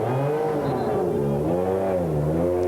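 Venturi race car with a Renault V6 engine in a 1994 BPR sports car series race, a loud, close engine note rising and falling as the car revs and shifts, continuous throughout.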